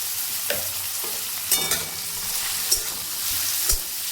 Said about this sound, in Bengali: তেল গরম হয়ে গিয়েছে, তাই এখন আমি এর মধ্যে আগে থেকে কেটে রাখা পেঁয়াজ, গাজর আর বিনস ছেড়ে দিলাম।